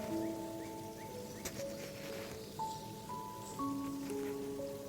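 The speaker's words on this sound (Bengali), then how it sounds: "দারচিনি ফোড়ন দিয়ে আমি এর মধ্যে কুচিয়ে রাখা পেঁয়াজটা দিয়ে দিয়েছি" Chopped onions frying in oil with cinnamon give a steady, close, rain-like crackling sizzle that runs unbroken under soft background music.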